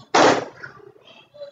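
A single sharp, loud clap from children in a rhythmic clapping game during a Ramadan-themed classroom lesson, followed by faint voices.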